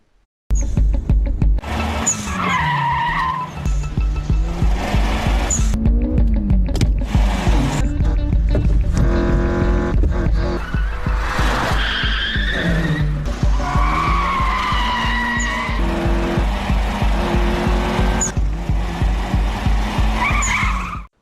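A Toyota AE86 in a mountain street race from the 2005 Initial D film, loud close tire skids and squeals over a roaring, revving engine, with repeated drifting slides and gear changes throughout.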